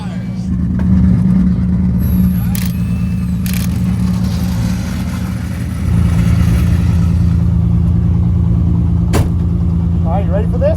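A pro drift car on a track holds a steady mid-pitched engine drone heard from inside, rising a little partway through, with faint background noise.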